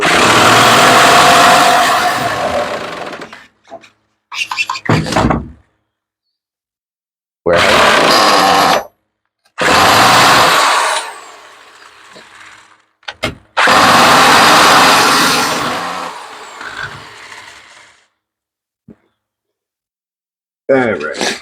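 A nitro RC buggy engine fires in short loud bursts of high-pitched buzzing, each cutting out abruptly into silence between attempts. Voices speak in the gaps.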